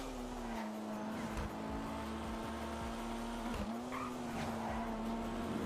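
Race car tires squealing as the car slides sideways through a turn in a racing video game, a sustained skid over a steady engine drone.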